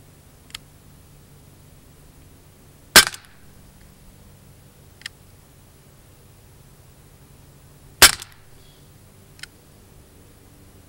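Gamo PT-85 Socom CO2 air pistol firing at a target: two sharp, loud cracks spaced about five seconds apart, with faint softer ticks between them over a quiet background.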